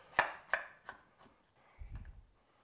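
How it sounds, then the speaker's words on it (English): Knife chopping peeled, rinsed baby carrots into quarter- to half-inch pieces: four sharp, evenly spaced chops close up on a board, then a softer thud, with no talking. "There's some peeled baby carrots we went ahead and rinsed off, and cut them in about, 1/4 inch or 1/2 inch pieces."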